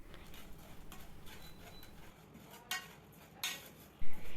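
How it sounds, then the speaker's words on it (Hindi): Spoon scraping and clinking in a pan as sugar is stirred for kadak chai, light irregular taps, then a few sharper metallic knocks near the end. "चीनी को स्पून के साथ अच्छी तरह से मिक्स करेंगे।"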